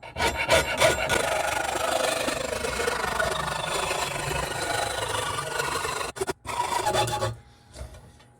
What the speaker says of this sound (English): I'm going to cut on the outside of the score mark so that I don't dig into it.